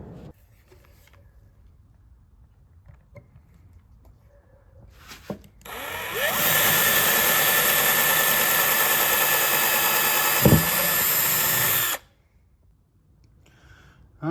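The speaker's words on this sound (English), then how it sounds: "I got little bitty pilot holes drilled for my screws" A power drill runs steadily for about six seconds, boring small pilot holes into wood for screws during a car audio subwoofer box build, loud and close with a brief knock partway through, quiet shop surroundings before and after.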